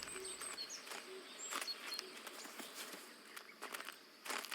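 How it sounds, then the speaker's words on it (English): Many robins in the garden of Botany Manor: scattered thin, high chirps and tweets, fairly faint, mixed with soft footsteps and light tapping. "Oh, now we've just got a bunch of robins all over the garden."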